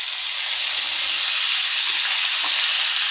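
Mint leaves fry in an oiled pan for chutney, a steady close sizzle and hiss that continues without a break throughout, with no voices.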